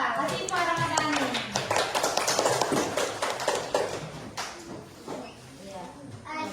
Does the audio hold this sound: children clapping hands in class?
yes